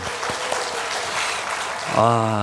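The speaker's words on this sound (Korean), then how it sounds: "박수 한번 주시죠" Applause from a church congregation at a Sunday service fills the room steadily for a couple of seconds before a voice begins speaking over it.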